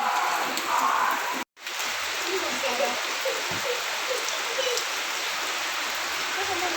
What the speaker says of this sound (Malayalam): മഴയൊക്കെ പെയ്യുന്നുണ്ട് കേട്ടോ.